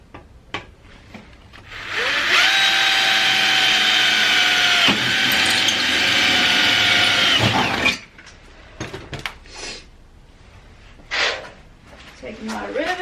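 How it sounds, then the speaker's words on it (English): A power drill bores through a heat shield cold air intake box, a loud, steady whine lasting several seconds, framed by short clicks and handling noises, with someone speaking briefly before and after. "So I'm going to go in and drill through this one now."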